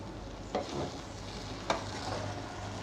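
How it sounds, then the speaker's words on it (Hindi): Chicken biryani rice, Karachi style with chargha chicken, is stirred in a pot with the flame off: two distinct scraping strokes and soft grainy rustling over a faint background hum. "पहले इसके चावलों को थोड़ा मिक्स कर लेते हैं हम,"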